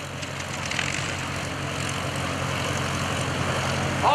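An aerobatic propeller airplane performs rolls and loops at an airshow over Greenwood Lake, its engine a steady, fairly distant drone that holds constant throughout with slight swells.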